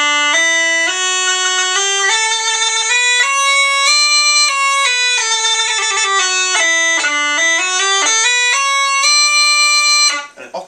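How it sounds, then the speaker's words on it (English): A pastoral pipe chanter plays a bright, reedy melody of sustained notes stepping up and down, loud and close, with no talking. "So this is the sound of the chanter."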